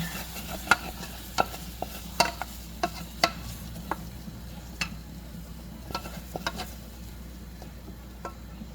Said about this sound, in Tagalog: Dito ko rin lulutuin yung aking ginger.